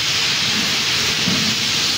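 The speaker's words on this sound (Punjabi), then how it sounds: "ਲਸਣ ਅਦਰਕ ਨੂੰ ਪਹਿਲੇ ਭੁੰਨਣਾ" Garlic and ginger fry in hot oil for a chana gravy, giving a loud, steady, unbroken sizzling hiss close by, with no talk.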